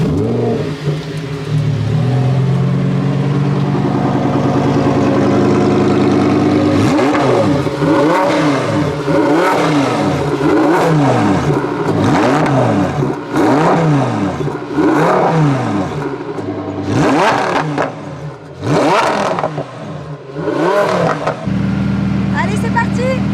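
A Lamborghini Huracan Evo in Corsa mode fires up and revs hard close by. Its engine note climbs and falls in a rapid series of sharp blips, then settles into a steady idle, with someone talking over parts of it.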